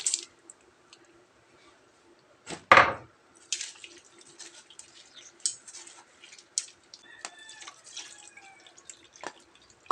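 Water poured over soaked sotanghon noodles and then strained, with splashy drips and trickles, one loud close splash near the start and scattered clinks and small squishes afterward, no voices.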